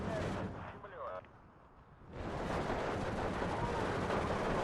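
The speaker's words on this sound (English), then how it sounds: "My artillery's killing their reinforcements on the road there" Artillery fire in Steel Division 2, a WW2 real-time strategy game, during a Soviet campaign mission at Tiraspol: a dense, continuous rumble of distant shelling that dips briefly, then swells back into a heavy, sustained barrage, with faint voices underneath.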